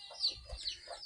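Farm chickens clucking in short, soft bursts, a few quiet calls spread over about a second with light background noise.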